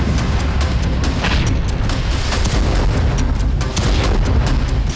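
Russian missile strikes exploding over Kyiv, a dense barrage of heavy booms and sharp blasts in rapid succession, loud and reverberant with no talk.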